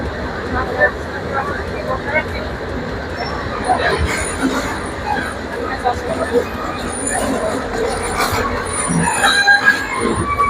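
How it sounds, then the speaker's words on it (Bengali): The Bijoy Express passenger train idles at a busy station with rumbling and occasional metallic squeals, while people talk nearby throughout. "দাঁড়ানো আছে বিজয় এক্সপ্রেস এটা জামালপুর যাবে চট্টগ্রাম থেকে জামালপুর এই বিজয় এক্সপ্রেস ট্রেনটি"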